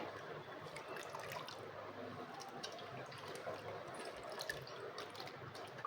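Thin sliced potato chips swished gently by hand in a bowl of water to wash off starch, giving soft continuous sloshing and light dripping close by, with no talk.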